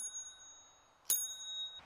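A bicycle bell on a cheap bikepacking bike gives one bright metallic ring that lingers and fades, followed by a faint second touch, heard close over a quiet outdoor background.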